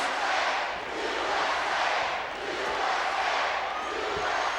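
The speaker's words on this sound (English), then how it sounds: "the big Russian didn't like that" A capacity crowd at a 1986 WWF wrestling arena cheers and chants in unison, a loud, surging wall of voices that swells and dips in rhythm across the whole stretch.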